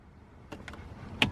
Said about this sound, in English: turn the car off